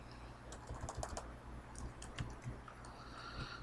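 Fingers tap out numbers on a computer keyboard while entering spreadsheet values, a quiet, irregular run of close keystroke clicks with short pauses between bursts.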